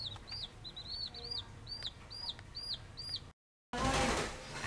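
Chickens in a backyard coop fitted with a light give a run of short, rising cluck calls in quick succession under low background noise, then a brief gap before a burst of broadband rustling noise.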